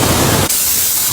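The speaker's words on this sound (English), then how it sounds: "I'm going to put a little bit more cooking spray in it" Cooking spray shot from a can into a pan during meal prep of zoodle alfredo, a loud, close, continuous hiss that briefly cuts and resumes with a brighter tone, with no talk.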